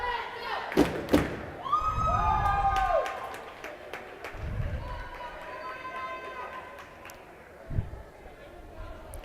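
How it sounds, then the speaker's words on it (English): A cheering squad at a girls volleyball game, Gilford vs. Portsmouth, shouts and chants in a gym over ball thumps and squeaking shoes, with loud close voices rising and falling. "Cheering squad right in front of me."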